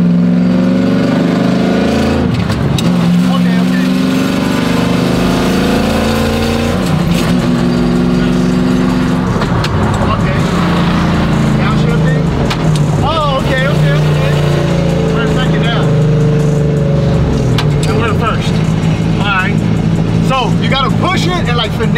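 Burnout truck with a sequential gearbox revs hard through repeated gear shifts, engine pitch rising and falling in surges while people talk over the loud, continuous roar.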